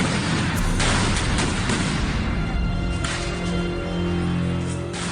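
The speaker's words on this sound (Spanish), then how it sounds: "ocurren al menos 3 explosiones seguidas" Loud, dense booming blasts, at least three explosions in a row from detonating devices, follow one another in quick succession, with sharp bursts cutting through a continuous rumbling roar.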